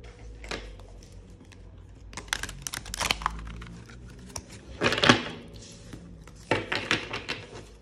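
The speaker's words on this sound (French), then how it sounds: "il se mélange très très bien, hein, des cartes qui glissent" Oracle cards from an Egyptian Isis deck being shuffled by hand: soft papery slides and crisp clustered bursts of sliding cards, the loudest near the middle and end, close and fairly quiet.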